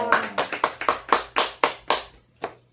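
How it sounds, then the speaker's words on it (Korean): Several mothers in an English vocabulary class clap for a child, about ten sharp, separate, close hand claps in a quick uneven rhythm that fade out near the end, with no talk. "엄마들 박수 한번 쳐주세요, 주은이."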